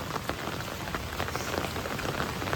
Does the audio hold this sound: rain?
yes